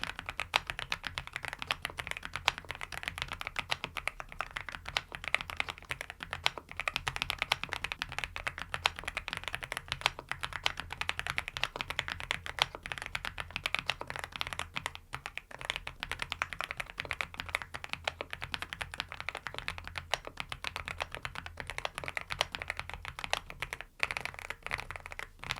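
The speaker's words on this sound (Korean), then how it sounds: "이 스위치는 드림 사쿠라 스위치인데 일단 어떤 느낌인지 한번 제가 타건해" Rapid, continuous clacking of a mechanical keyboard with Dream Sakura switches, close and steady, no talking.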